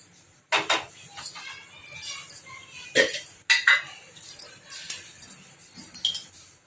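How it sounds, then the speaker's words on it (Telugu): Kitchen clatter as a stove is lit and a metal kadai is set on it: a string of sharp metallic clinks, knocks and scrapes in several bursts, close by and moderately loud in a quiet room. "స్టవ్ వెలిగిస్తున్నా, కడాయి పెట్టుకో."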